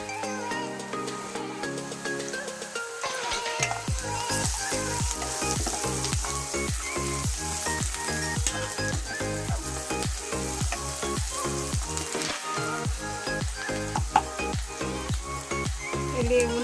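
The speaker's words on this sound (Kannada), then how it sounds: "ಈರುಳ್ಳಿನೂ ಅಷ್ಟೇ ಸ್ವಲ್ಪ ಫ್ರೈ ಆಗಲಿ." Onions sizzle and fry steadily in a pan for girmit, a continuous close crackle with a strong, even level and no talking.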